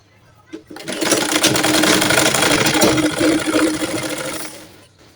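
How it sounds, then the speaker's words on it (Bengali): A sewing machine runs a continuous stitching burst on a baby girl's butterfly-sleeve top, whirring loud and close for about four seconds before slowing to a stop. "এখান দিয়ে একটা চাপ সেলাই দিয়ে দিব।"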